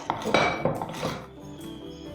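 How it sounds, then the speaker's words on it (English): A utensil scrapes down the sides of a mixing bowl of chocolate cake batter, giving a few close clinks and scrapes that fade into quiet after about a second, with no talking. "I'm going to scrape my bowl down to make sure all is incorporated"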